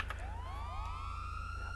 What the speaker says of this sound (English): It toggles the siren.